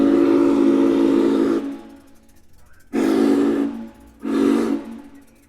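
Norfolk and Western 611 steam locomotive at the Strasburg Rail Road sounds its steam whistle in three blasts, a long chord-like blow then two shorter ones, loud and near with hissing steam between.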